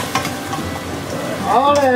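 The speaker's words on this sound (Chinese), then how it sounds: "先把这配菜里先炒， 对了， 炒熟啊" Greens and tomato stir-fry in a hot wok, a close, steady sizzle with scraping stirs, and someone speaks briefly near the end over the frying.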